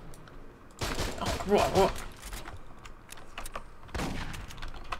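Gunfire from Aliens: Colonial Marines crackles in a few dense bursts under excited chatter from players close by.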